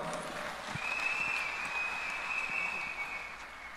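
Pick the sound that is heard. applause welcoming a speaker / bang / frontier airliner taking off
applause welcoming a speaker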